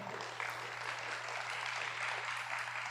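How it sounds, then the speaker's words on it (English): Audience applause at a Bharatanatyam arangetram, a classical Indian dance debut recital: a steady wash of crowd clapping holds evenly throughout, with a low electrical hum beneath and no voices. "Let us give a big round of applause to Madhavi ji"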